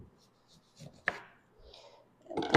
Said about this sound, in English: And then I'm just going to make slices